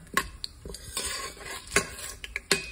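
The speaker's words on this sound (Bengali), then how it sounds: "এখানে স্টিয়ার করতে হবে মশলা" Spices stirred in an Instant Pot for khichuri, a utensil scraping and clinking against the metal pot in a few sharp strokes over a soft steady sizzle, close up, with no talking.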